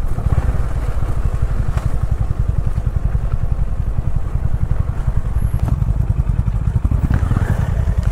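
A motorcycle rides through Sonamukhi Forest on an off-road stretch of a Puruliya bike tour, its engine drumming steadily and loud up close for the whole stretch, with a rattling clatter over the throb and no voices.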